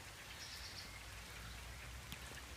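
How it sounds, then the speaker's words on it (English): Steady summer rain falls continuously, a dense even patter of drops on surfaces, moderately close, with no voices. "Hey, it's raining."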